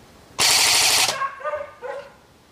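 Dogs bark loudly indoors, one sharp burst of harsh barking followed by two shorter yelping barks, each trailing off.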